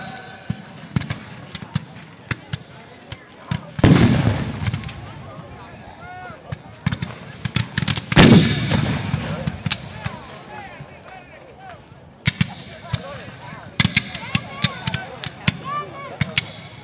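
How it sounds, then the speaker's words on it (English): Cannon fire at a Civil War reenactment battle: two heavy booming blasts a few seconds apart, with scattered sharp gunshots and crowd noise around them, loud and fairly close. "We've had an artillery misfire to your far left."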